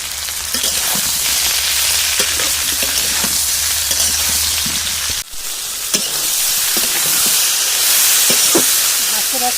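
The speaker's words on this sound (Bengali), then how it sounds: "ভাজতে ভাজতে আমার সবজি নরম হয়ে গেছে দেখুন" Eggplant and lotus stalks frying in a wok, a loud continuous hissing sizzle with occasional stirring knocks and a brief dip midway before the frying noise resumes.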